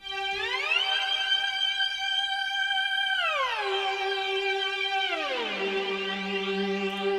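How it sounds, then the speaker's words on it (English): Roland JD-Xi lead patch Tekno Lead 1 playing a few long held notes that glide smoothly between pitches with portamento, a bright buzzy harmonic-rich tone, steady and alone. "so for that sound I'm using the lead sound called Tekno Lead 1, which you'll find in the lead bank here"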